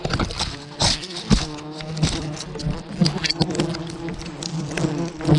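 A dense swarm of giant honey bees buzzes loudly and continuously close to the microphone during a rainy-season wild hive harvest, with sharp thumps and rustling as the bees attack.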